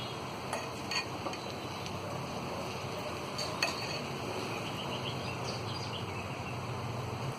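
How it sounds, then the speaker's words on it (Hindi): A spoon stirs and mixes egg dum biryani in a pot, giving faint scraping and light clinks over a low steady background, with no talking. "इसे अच्छी तरह इस तरह मिक्स कर लेंगे"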